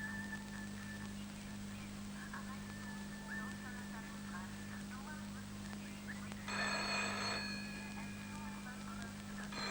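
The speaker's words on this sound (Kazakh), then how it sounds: "звондап жатыр, телефонды ала қойш" A telephone bell ringing indoors in a room with a steady background hum, repeated rings that get louder near the end, with no talk over them.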